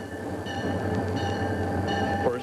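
A train runs on overground rail toward Karachi, its steady low rumble and rolling wheel noise continuing throughout, with a brief higher squeal near the end.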